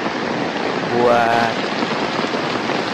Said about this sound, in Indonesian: suasana hujan di pedesaan.